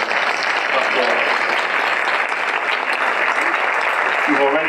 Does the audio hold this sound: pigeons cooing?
no